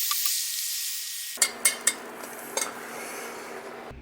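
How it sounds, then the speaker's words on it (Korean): Chop steak sizzles and stir-fries over high heat in a pan, a steady frying hiss broken by several sharp utensil scrapes and taps against the cookware, close and fairly loud with no talking. "마지막 1분 강불에 볶아주면 끝입니다."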